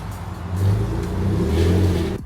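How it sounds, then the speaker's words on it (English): An Audi S4 engine revs in a steady, droning rise and hold, with the exhaust resonators rattling as if loose bolts were inside and the catalytic converters breaking apart, all close and loud before it cuts off sharply. "when I rev the motor"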